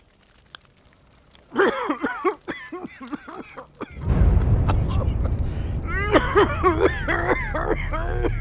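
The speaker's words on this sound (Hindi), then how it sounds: "आज बापू जी कुछ ज्यादा ही खांस रहे हैं।" An old man coughs and clears his throat in a Rajasthani village film, with a string of rough, hacking bursts close by, then a steady noisy background with more faint coughs and rustling.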